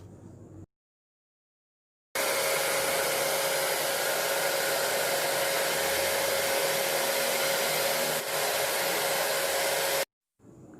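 Hair dryer blowing at a salon, a loud steady whine and rush of air held for about eight seconds, then abruptly switched off, with quiet room sound before and after.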